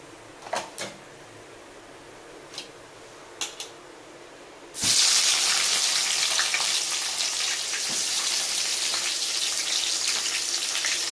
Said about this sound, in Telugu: ఉల్లిపాయలు బ్రౌన్ కలర్లో వచ్చినాయండి, వేగిపోయినాయి